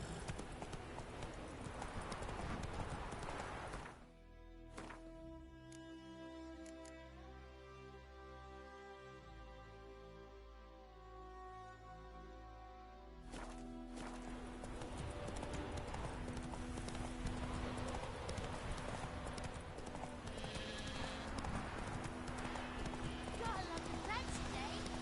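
Horse hooves clip-clop at a gallop in The Witcher 3, a steady rapid beat that drops away briefly while musical tones rise, then the pounding returns loudly with game ambience around it.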